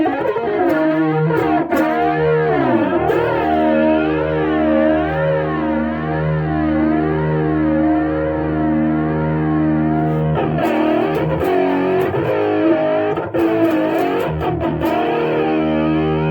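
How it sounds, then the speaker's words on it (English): A sustained, heavily distorted guitar tone through a SONICAKE multi-effects pedal's phaser, the sound swirling up and down steadily, loud and continuous with a few brief pick scrapes. "Let's do a little phaser."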